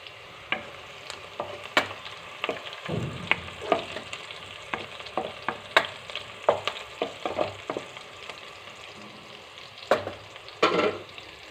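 Sliced onions with turmeric frying in a pan for a Telugu okra curry, a steady loud sizzle with scattered crackles and pops and occasional stirring scrapes, no voices.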